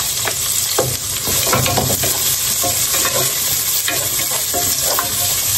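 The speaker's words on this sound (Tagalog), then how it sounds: "ato ring igisa ang mga lamas, no? Sibuyas, luya." Onion and ginger sizzle steadily in a hot pan as the aromatics for larang, a Filipino fish soup made with tanigue, with a dense, continuous frying hiss and occasional stirring scrapes close up, no voices.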